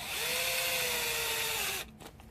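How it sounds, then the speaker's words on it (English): Power drill whining at high speed while boring holes in a 3D printed snow blower kit part, one loud sustained run with a steady pitch that cuts off abruptly, followed by brief quieter clicks. "I typically slow the drill bit down when I'm pulling it back out"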